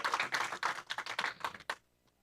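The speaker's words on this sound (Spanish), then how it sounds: "Démosle un aplauso al Señor ahora en el nombre de Jesús." A church congregation breaks into applause, a dense burst of many hands clapping at close range for nearly two seconds before cutting off abruptly into near silence.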